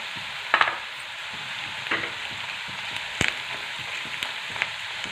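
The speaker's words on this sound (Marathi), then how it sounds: "कढीपत्ता छान तेलामध्ये परतून घ्यायचा" Curry leaves sauté in hot oil in a pan, giving a steady bright sizzle with a few sharp crackles and stirring clicks, close and alone.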